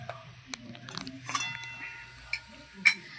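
A wok is lifted off the stove with a few sparse metallic clinks and taps, close and light, with a brief bright clank near the end amid quiet surroundings.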